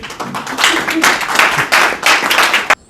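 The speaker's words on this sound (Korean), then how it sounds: "박수로 환영해 주십시오" A lecture audience claps to welcome a professor, a loud, close round of applause in uneven bursts that cuts off abruptly.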